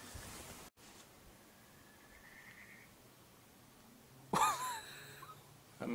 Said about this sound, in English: That must be an owl.